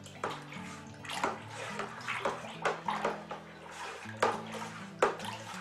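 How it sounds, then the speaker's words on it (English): Finings stirred into the must of a Cellar7 Sauvignon Blanc white wine kit, giving repeated sloshing, swirling liquid strokes in an irregular rhythm, close and moderately loud, over a low steady hum. "And we'll give this a good stir."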